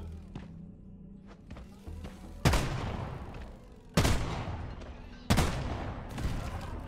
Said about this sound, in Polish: Okej, wybuch.